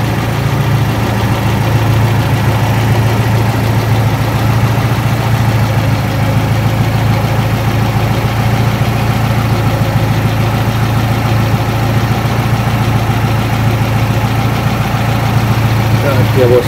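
A car engine idles roughly and unevenly, a steady loud low rumble with a faint knock that runs throughout with no break, while the hood is open and the radiator fan has failed.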